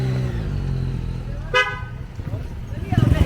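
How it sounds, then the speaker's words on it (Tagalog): A Mitsubishi Pajero gives a single short, bright horn toot midway through, while people talk nearby and an idling engine rumbles underneath. "May busina na yung aming pajero."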